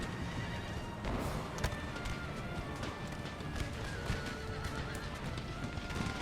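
Cavalry horses charging in the strategy game Empire: Total War, with galloping hooves and whinnying neighs over a dense, continuous battle din of clashing and shouting.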